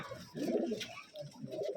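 Rajshahi Giribaj pigeons coo in a loft, with soft, low, throaty bursts repeating close by, moderately quiet and with no talk.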